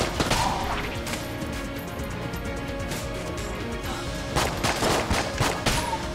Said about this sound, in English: That ghost has a machine gun.